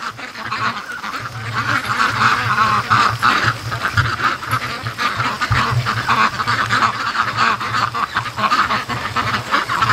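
Many ducks, including Muscovy ducks, quack continuously in a loud, overlapping flock chorus on a lake, with honking calls mixed in, no voices.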